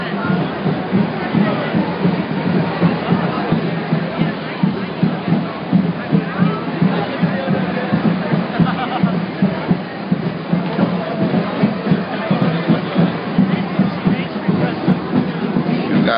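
Crowd of partiers and tourists mills around, a dense babble of many overlapping voices with footsteps and scattered clatter, close and continuous.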